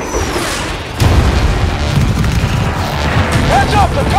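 Missile launch and blast in the Battlefield 4 naval strike battle, a loud low boom hitting about a second in and rumbling on, with voices heard under the explosive din.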